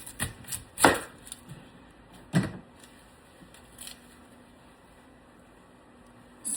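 An onion being peeled and cut on a board while making arroz con gandules: a handful of sharp, widely spaced knife chops in a quiet kitchen, with no one talking.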